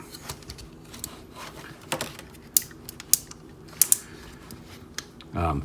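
A plastic Ocular Max PS-14 Incursus transforming robot toy is handled and folded, giving a series of sharp clicks, snaps and creaks from close up with quiet gaps between them.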